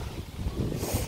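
Strong outdoor wind roars and buffets the microphone in a continuous, dense rush with no breaks, loud and close throughout.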